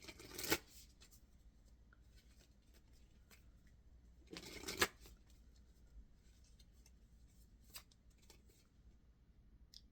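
Oracle cards from the Gateway of Light deck are shuffled in two brisk riffling bursts, close and quiet, followed by soft taps and slides as individual cards are drawn.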